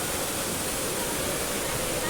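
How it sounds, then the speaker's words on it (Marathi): Steady roar of a roadside waterfall near a main road at Bhalwadi, a dense unbroken rush of falling water heard close and loud, with no pauses or other sounds. "मस्त धबधबा"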